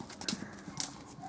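A few soft horse hoof clops, irregular and fairly close, against quiet outdoor background noise.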